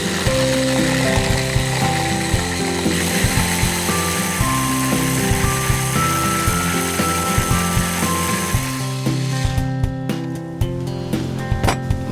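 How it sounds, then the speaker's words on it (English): A blender whizzes up an Italian sauce made with salt and good olive oil, a loud steady mechanical whir with rattling, grinding pulses that runs continuously, then shifts pitch near the end. "All we need to do now is whiz it up."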